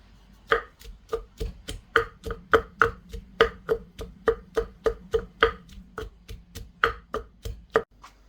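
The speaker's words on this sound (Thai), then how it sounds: "กระเทียมหอมแดงแล้วก็พริก แล้วก็ ใบมะกรูด ตำให้ละเอียดเลยจ้า" Garlic, shallots, chili and kaffir lime leaves pounded in a mortar for dried mackerel chili paste, a steady run of about twenty sharp, close thuds with a fairly regular rhythm and nobody talking.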